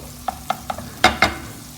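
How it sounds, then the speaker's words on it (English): Prawns cooking slowly in a pan with asparagus and tomato: a series of sharp, close clicks and scrapes from stirring, growing louder toward the end, with light sizzling underneath. "Now I will cook the prawns slow."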